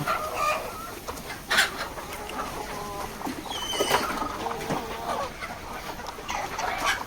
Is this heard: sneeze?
no